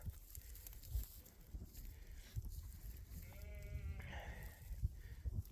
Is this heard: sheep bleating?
yes